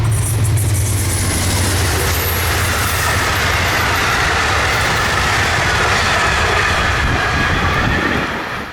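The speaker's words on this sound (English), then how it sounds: "The 2 p.m. Strasbourg train wasn't in too much of a hurry" A Strasbourg train passing along the Keystone Corridor, a loud sustained roar of wheels and rail with rhythmic clatter, fading slightly toward the end, no voices.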